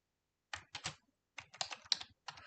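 Keys clatter on a computer keyboard in two short bursts of quick typing with a brief pause between them. The sound is close and fairly quiet, with no voice over it.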